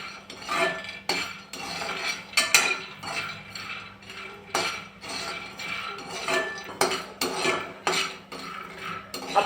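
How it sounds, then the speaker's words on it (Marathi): Peanuts dry-roasting in a kadhai over high heat for sesame laddoos, with repeated metallic scrapes and clinks of a spatula stirring them in quick irregular bursts, close and clear, no voices. "गॅसवरती कढाई गरम करण्यासाठी ठेवली आणि त्यामध्ये आपण शेंगदाणे टाकून घेऊयात"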